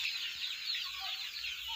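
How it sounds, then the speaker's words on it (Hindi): Rhode Island Red chicks on their 27th day, clucking and peeping in a high, busy chatter from a small flock, steady and close throughout. "आज ये RIR चूज़ों का 27वां दिन है।"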